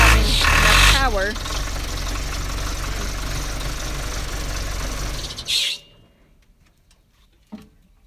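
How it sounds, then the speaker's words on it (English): A John Deere 310C backhoe's heavy diesel engine runs loud and steady for several seconds after a loss-of-power repair, then cuts off abruptly, leaving near silence with a couple of faint knocks. "the tractor is running well again"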